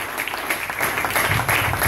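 Congregation applauding at a church service, a steady wash of clapping from many hands throughout, fairly loud and continuous.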